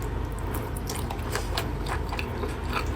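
Biting into and chewing pork adobo cooked with chili, with wet, squishy mouth sounds repeating in a close, steady rhythm, no talking.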